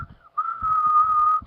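A person whistles a single sustained, steady tone after a short first note, clear and close with no talking over it.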